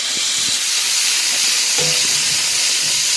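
Sliced beef fries in a pan for a crispy beef sandwich, a loud, continuous sizzle with bright steady hiss and a few faint pops and knocks beneath it.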